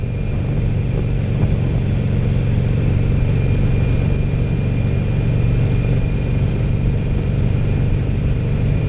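A 2016 Harley-Davidson Roadster cruises in fourth gear at about 3,000 RPM and 52 mph, with a steady, loud, close engine drone mixed with rushing wind noise and no pauses.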